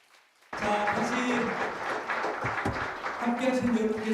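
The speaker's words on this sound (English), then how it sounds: "give them a big loud applause" A forum audience breaks into applause after a brief quiet moment, a sudden dense wash of clapping that holds steady for several seconds with a voice speaking over it near the start and end.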